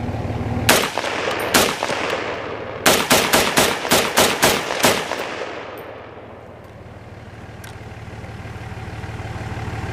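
Rifle shots fire at targets, first two single reports, then a rapid string of about eight sharp, loud, close cracks, followed by a low steady hum that fades and rises again.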